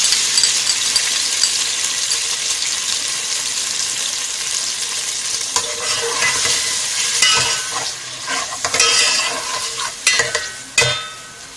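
Meat sizzles in a hot pan with garlic ginger paste while being stirred for shola. The frying hiss is loud and continuous, and stirring scrapes and a few sharp clinks of utensils against the pot come in toward the end.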